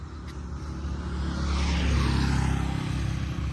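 A Honda X-ADV750 scooter engine with an aftermarket carbon exhaust revs up loudly and holds a rising, rough drone with a raspy exhaust note, no talking over it.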